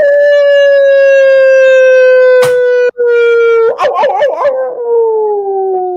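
A dog howls loudly and steadily in a long sustained tone, briefly interrupted, then breaks into wavering, yipping howls that trail off toward the end; no talking.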